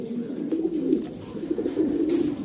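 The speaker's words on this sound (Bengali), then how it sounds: "এই যে দেখেন স্টেনসিল কবুতর" Stencil pigeons give a continuous low, rolling coo, several birds overlapping in a warm murmuring throb with a few faint clicks, nearby and fairly loud.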